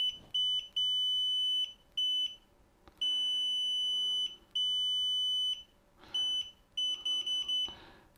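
Loud, high-pitched electronic beeps from a multimeter continuity tester sound in bursts of varying length, some long and steady, others short and rapid, with quiet gaps between.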